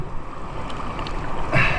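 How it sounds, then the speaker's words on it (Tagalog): Rough sea slaps and churns around a small fishing boat in big waves, a close, steady wash of water and wind with a brief louder splash near the end. "Laki ng alon."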